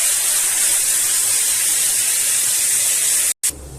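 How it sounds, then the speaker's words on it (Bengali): Curry gravy for a potato and egg curry poured into a hot pan over fried dry chillies and bay leaves, a loud steady roaring hiss that cuts off briefly near the end before flaring again. "এবার আমি ঝোলটা দিয়ে দিচ্ছি।"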